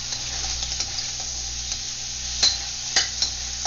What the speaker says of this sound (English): Okay, we stir it around a bit.